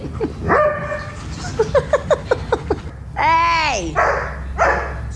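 A small dog at home on a rainy day gives a quick run of short, sharp yips and barks, then a long, rising whine. Someone speaks and calls out over it nearby.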